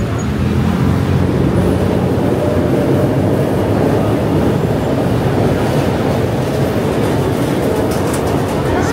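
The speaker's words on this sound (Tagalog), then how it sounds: "ayun yung LRT" An LRT light rail train passes in Quiapo, Manila, a loud continuous rumble and rolling rail noise with faint clatter, steady and close throughout the clip.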